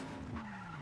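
A car skids through a handbrake turn in the video game Just Cause 3, a short continuous tire-and-engine drone with a brief swell midway, loud and steady for under a second with no talking.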